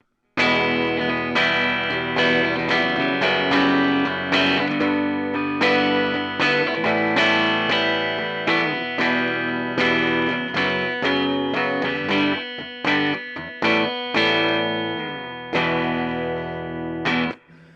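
A clean electric guitar plays straight through an amp with no pedals, strummed chords and picked notes ringing out steadily, with a few short pauses near the end.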